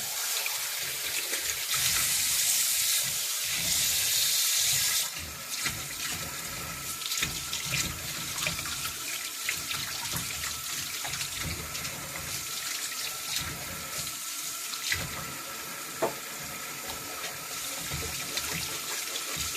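Tap water runs steadily into a kitchen sink as dishes and utensils are washed up, with a louder gush early on and occasional clinks; no one speaks.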